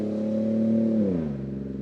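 A loud car with a modified exhaust rumbles close by with a steady, strongly pitched engine drone that drops in pitch as it passes, heard alone.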